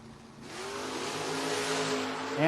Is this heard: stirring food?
no